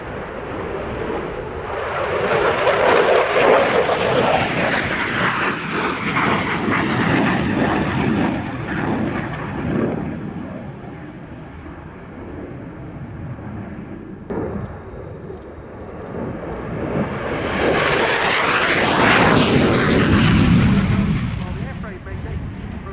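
An F-16 fighter jet accelerating in an air display show, a loud roaring rumble that swells, fades, then returns in a rising, tearing pass, with a commentator speaking over it.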